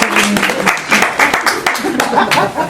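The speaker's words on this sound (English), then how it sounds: "Maybe we should start right at the beginning with a huge applause for" An audience claps loudly for poets Renata and Susan at a poetry event, distinct hand claps forming an irregular, lively patter close by, with a voice talking briefly over the applause.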